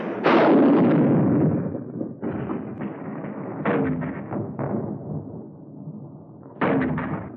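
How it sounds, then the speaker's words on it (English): A World War II artillery barrage falls close to front-line positions near San Pietro, Italy, in 1944. Several heavy, booming blasts strike at irregular intervals, with rumbling between them, loud and near, with no voices. "Our own artillery was brought to fall within 100 yards of our front-line elements."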